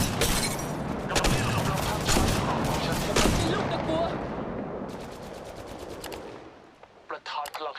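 Rapid automatic gunfire in the mobile battle-royale shooter Apex Legends Mobile, dense bursts of shots for several seconds, then sparser isolated cracks near the end; no speech.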